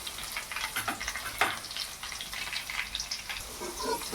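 Onion and green chilies frying in a pan for egg keema, a low, continuous sizzle with soft stirring scrapes and small clatters throughout.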